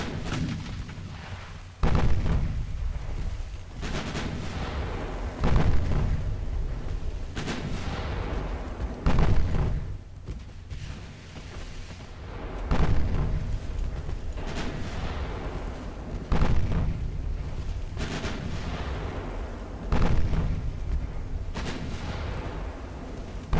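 Heavy warship guns from the Ultimate Admiral Dreadnoughts naval game, a German 1920 cruiser battle, boom in repeated loud broadside salvos about every three to four seconds, each with a sharp blast and a rumbling tail.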